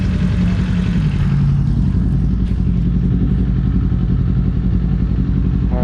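A 2024 Kawasaki Z400 motorcycle on an afternoon road ride makes a continuous, close, mid-pitched engine rumble with some rattly clatter, and no voices are heard.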